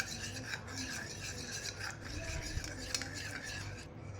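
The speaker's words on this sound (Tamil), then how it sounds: "இது நல்லா அந்த ஆலோவேரா ஜெல்லும் அந்த முட்டையோட வெள்ளைக்கருவும் நல்லா மிக்ஸ் ஆகிற அளவுக்கு நல்லா மிக்ஸ் பண்ணிக்கோங்க" Aloe vera gel and egg white are stirred together close up, giving a steady wet scraping and rasping that runs without a break for the whole stretch, with no voices.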